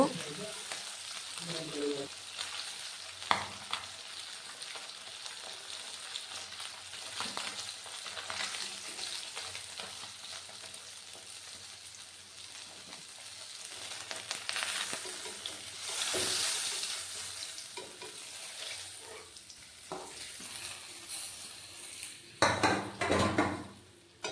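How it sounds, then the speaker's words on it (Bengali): Fish and black cumin seeds fry in hot oil in a Bengali kitchen, giving a steady soft sizzle broken by scraping stirs and clinks of a utensil against the pan, louder bursts of clatter toward the end. "তেলের মধ্যে দিয়ে দিলাম কালো জিরে।"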